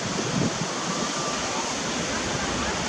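Ocean waves at La Jolla Shores beach wash in as a dense, continuous roar of surf, loud and close, with wind buffeting the microphone and no clear talk.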